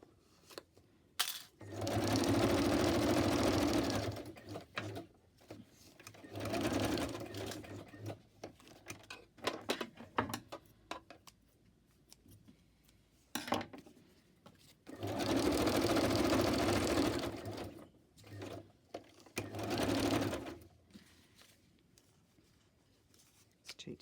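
A sewing machine zigzag-stitching fabric scraps runs in several loud bursts of rapid mechanical whirring, separated by quieter pauses with small clicks and handling noises.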